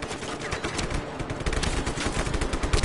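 Rapid bursts of automatic gunfire in Just Cause 3 crackle close and loud, overlapping shots forming a dense, continuous volley with no talk over them.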